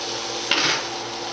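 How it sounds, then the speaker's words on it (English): Flour-coated canned herring sizzles steadily in a hot frying pan, a close, even hiss with a brief scrape of a utensil against the pan. "what we're going to do is we're going to fry it like such"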